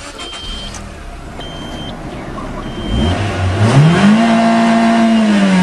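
A Nissan 200SX engine revs up toward redline inside the car on a muddy day, the pitch climbing steadily and then holding high and loud as the motor strains near full revs, with no talking.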